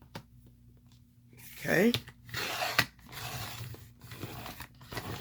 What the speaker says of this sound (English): I'm going to cut right there. Just enough to cut the strip off.